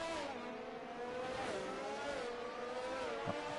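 Race cars in a Formula-style racing video game at the Hungarian circuit, including a Ferrari and a Red Bull, drone steadily with engine tones rising and falling as the pack runs bunched together, with a brief louder burst near the end.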